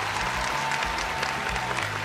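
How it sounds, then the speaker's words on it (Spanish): A studio audience at a Caracol Televisión talk show breaks into brief, steady applause, a dense burst of clapping that fills the moment, with a faint musical tone underneath. "Un aplauso,"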